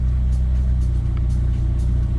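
A Jeep Wrangler or Cherokee engine idles steadily with a low, continuous rumble, its speed slowly dropping. It sounds close and even, with no talking.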